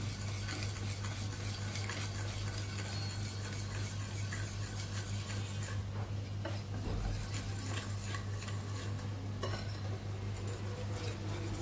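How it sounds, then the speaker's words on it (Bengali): Flour going gradually into melted egg and sugar for cake batter, with a steady close scraping and stirring in a bowl and light utensil clinks, over a constant low kitchen hum. "আমি আস্তে আস্তে করে দিয়ে দিচ্ছি ময়দা, একবারে দিব না।"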